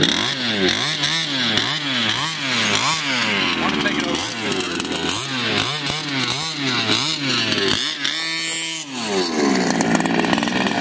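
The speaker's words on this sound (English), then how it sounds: "Dude, it sounds like a dirt bike." A small 49cc motor engine buzzes and revs in repeated rising bursts like a dirt bike, loud and close, with someone briefly talking over it.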